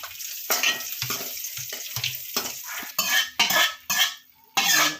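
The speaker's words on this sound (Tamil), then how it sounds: "நெய் முந்திரி பருப்பு மட்டும் நம்ம வறுத்து போட்டுக்கலாம்." Close-up sizzling of cashews frying in ghee, with a spoon scraping and stirring in a pan, bursts of frying crackle between brief quieter pauses.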